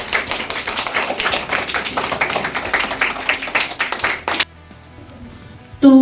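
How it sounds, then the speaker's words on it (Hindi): An audience at a Hindi quiz show gives a team a burst of dense, rhythmic clapping that lasts about four seconds, then cuts off sharply to near silence before a brief louder sound at the very end. "टीम मंजरी के लिए जोरदार तालियां।"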